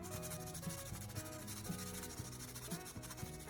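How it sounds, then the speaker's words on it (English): Sandpaper scrubbing grime off the tip of a soldering iron that is not heating, a steady close abrasive rubbing with rhythmic strokes running continuously under a faint tonal background. "A quick scrub with some sandpaper helps remove the initial layer of grime"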